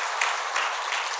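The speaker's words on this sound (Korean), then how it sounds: "우리 박수로 환영하도록 하겠습니다." A church congregation claps briefly to welcome newcomers during a worship service, a short burst of applause heard up close.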